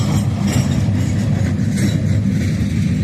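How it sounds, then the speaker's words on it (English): A train rolls steadily past at close range, a loud, continuous low rumble with faint rail clatter and no letup; the tail end of the train goes by. "Alright, that's the end of the train."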